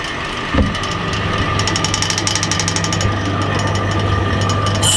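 A vacuum pump runs to bring a liquid to a boil at 40 degrees under vacuum. It gives a loud, continuous mechanical drone with a fast rattling pulse, after a brief thump near the start.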